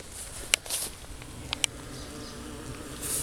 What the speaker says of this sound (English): I got my bees right here.